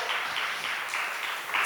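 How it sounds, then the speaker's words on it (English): Audience applause at a city arts policy talk, a dense, steady patter of many hands clapping together for a couple of seconds, swelling slightly at the end. "A round of applause for that."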